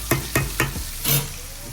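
Shrimp frying in hot oil for bang bang shrimp sizzle steadily, with four sharp clinks and splashes as pieces are flipped, up close and free of talk.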